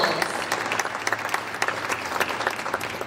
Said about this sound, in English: If we could give all of our teams a round of applause.